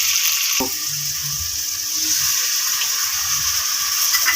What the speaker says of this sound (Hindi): तो ये अब मैं थोड़ा सा पानी डाल के इसको मिक्स कर लेती हूँ।